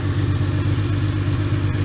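A Subaru H6 3.0 flat-six engine fitted in a VW Caravelle T3 van idles steadily up close, with a smooth low hum, a faint ticking clatter and slight fluctuations as revs settle.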